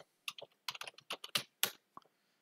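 Someone types a password on a computer keyboard on an Ubuntu desktop: a short burst of about a dozen sharp, close keystrokes with quiet gaps between them, and no voices.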